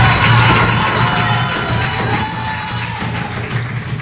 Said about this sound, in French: les applaudissements s'il vous plaît pour Akeneo pour qu'il gagne